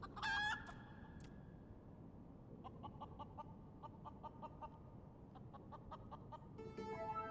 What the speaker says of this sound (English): Oh, the chicken.